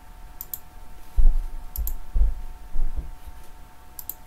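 Keys on a computer keyboard click in a few separate bursts of typing, close and fairly quiet, with short pauses between clusters of keystrokes over a faint electrical hum.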